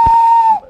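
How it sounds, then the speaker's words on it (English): One short, shrill railway guard's whistle blast held steady at a single pitch for about half a second, close and loud. "The guard blew his whistle"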